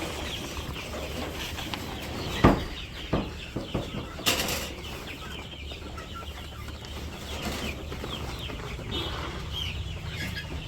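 Domestic chickens in a village yard clucking near and far, with a sudden loud flap or thump and scattered short clucks over steady background noise.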